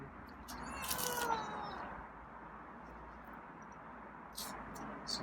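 A feral cat meows indoors, a short, moderately close cry early on followed by fainter meows near the end over a quiet room hum.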